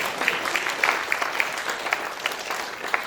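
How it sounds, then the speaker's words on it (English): Audience applause at a mentalism show at the Saskatoon Fringe festival, a steady wash of many hands clapping with scattered louder claps standing out, no talk over it. "to another huge round of applause"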